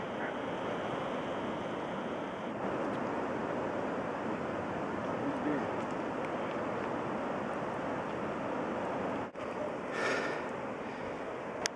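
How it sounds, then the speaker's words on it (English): Steady broadband roar of a waterfall and rushing water, constant and fairly faint, heard from a distance outdoors with light wind buffeting and no talk. "That's quite a waterfall."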